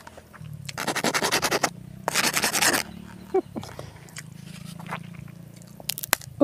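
Crunchy bites into fried eel sambalado, two long bursts of close, loud crisp crunching followed by softer chewing and small scraping sounds, with no talking.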